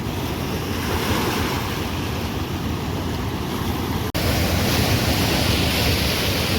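Turbulent water surging at Hirakud dam, a loud continuous roar of churning waves mixed with wind buffeting, broken only by a sudden momentary cut before resuming at full strength.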